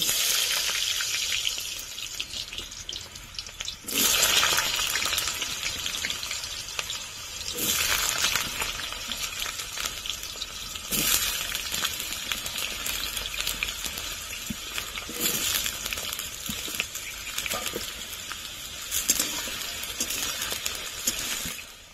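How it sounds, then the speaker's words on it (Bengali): Potatoes fry in hot oil in a wok for meat ghugni, a steady hiss and crackle that surges with bursts of sharper sizzling and occasional clinks across a long stretch, with no talking. "তেল গরম হয়ে গেছে, আলুগুলো দিয়ে দেব।"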